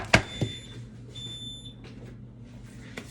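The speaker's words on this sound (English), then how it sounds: "There's our timer." A kitchen timer goes off during baking of homemade Twinkies: a sharp knock, then high electronic beeping tones in short bursts over quiet room noise, with a soft clatter near the end.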